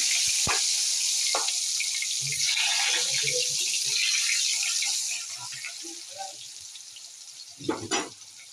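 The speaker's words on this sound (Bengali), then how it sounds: "টমেটোগুলো কড়াইতে দিয়ে দিলাম।" Tomatoes tossed into a hot kadai with fried potatoes, for a chicken kasha, sizzle in a steady hiss with a few utensil clinks, the frying settling quieter after a few seconds before some closer stirring knocks at the end.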